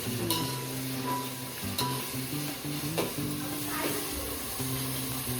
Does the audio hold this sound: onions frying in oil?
yes